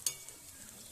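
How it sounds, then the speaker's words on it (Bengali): Stuffed pointed gourd fries in a pan with a brief, faint sizzle and a short stirring scrape at the start, no voices present. "লাল করে ভেজে দেবো"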